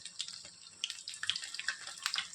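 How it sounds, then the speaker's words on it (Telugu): Chicken pakoda pieces dropped into deep, well-heated oil for street-style frying, giving a steady crackling sizzle with scattered sharp pops, close and fairly quiet, with no talking. "ఆయిల్ బాగా హీట్ అయ్యాక ఇందులో మనం ఇప్పుడు చికెన్ పకోడీ వేసుకుందాం."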